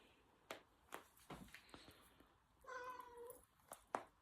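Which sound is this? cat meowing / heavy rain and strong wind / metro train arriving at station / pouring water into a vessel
cat meowing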